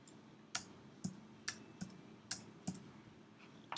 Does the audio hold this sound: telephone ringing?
no